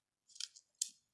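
A pair of scissors handled by a child, two quick crisp snips a moment apart, close and quiet with no talk.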